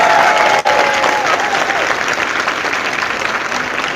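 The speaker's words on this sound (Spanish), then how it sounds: "Aplauso para la iglesia católica" An audience in a Catholic church breaks into sustained applause, a dense, loud wash of clapping that keeps going for several seconds after a brief dip near the start.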